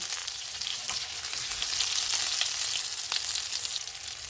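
Fish pieces fry in hot oil, giving a continuous close sizzle with dense crackle and no voices, steady in loudness throughout.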